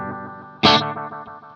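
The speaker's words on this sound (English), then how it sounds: "we'll start with the 70s delay, which sounds like this." A sustained distorted guitar chord is struck again, and the attack repeats in fading echoes, a warm vintage-style delay trailing off, from the 70s delay setting of a Nux Cerberus pedal.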